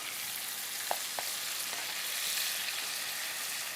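Hamburger patties sizzling in a pan after some fat is drained, a steady bright crackling hiss with a couple of small pops and stirring scrapes, moderately quiet and uninterrupted.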